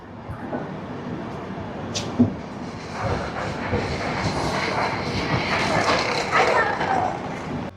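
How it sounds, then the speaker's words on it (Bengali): Hijli Nilachal Express train pulling into platform 2 at Jaleswar station in Odisha, a broad steady rumble of wheels and carriages building toward the end, with a short sharp clank near the start and a voice talking over it. "ট্রেন তার 316 কিলোমিটার জার্নি অতিক্রমণ করে এসে পৌঁছালো উড়িষ্যার জলেশ্বর স্টেশনের 2 নম্বর প্ল্যাটফর্মে।"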